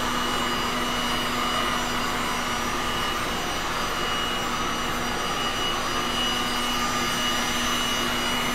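An airbrush blowing a steady, loud stream of air over alcohol inks, a continuous even hiss with a faint tonal hum that runs unchanged throughout without any talking.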